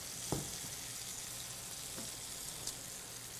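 Protein searing in a hot oiled pan, a steady close hiss of frying with a couple of faint taps of utensil or pan early on, continuous and even throughout.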